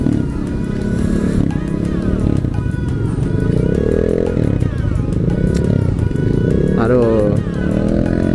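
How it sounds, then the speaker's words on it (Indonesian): Honda CBR 150R motorcycle on the move with its standard stock exhaust, the engine droning steadily and loud throughout, rising and falling in pitch with changes in speed, while a voice talks over it. "Knalpot gue tuh knalpot standar."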